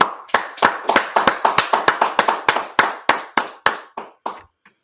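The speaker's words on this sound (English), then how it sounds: "All right, most of them, let's clap it up." A group claps together in a steady, rhythmic unison beat, roughly sixteen sharp claps in about five seconds, loud and close before the clapping stops.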